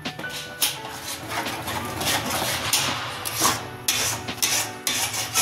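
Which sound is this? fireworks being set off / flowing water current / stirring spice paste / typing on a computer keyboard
stirring spice paste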